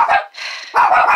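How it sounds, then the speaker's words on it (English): Dogs bark loudly and nearby in several sharp, rapid bursts, a short pause separating the first bark from a quick flurry of barks at the end. "I think they're done barking"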